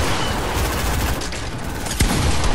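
Rapid automatic gunfire in the video game Volcano Wars, a loud, dense fusillade of shots running continuously and close throughout, with no talk.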